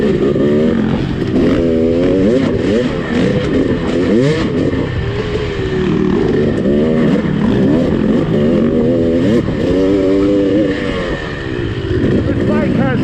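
Dirt bike engines rev and rumble continuously while riding a trail at Tahuya, the tone rising and falling with throttle changes, loud and close throughout, with a voice talking over the engine noise.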